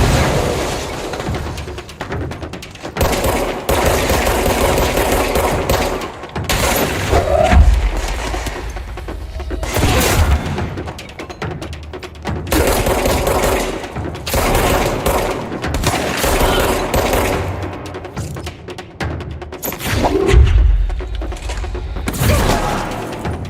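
Repeated video game gunfire comes in loud bursts and single shots with heavy booming thumps. The bursts are separated by brief pauses, and the firing continues throughout at close range.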